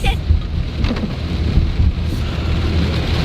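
Heavy rain falls on a soggy day, making a loud, steady, broadband hiss and rumble that is unbroken from start to finish and has no voices over it.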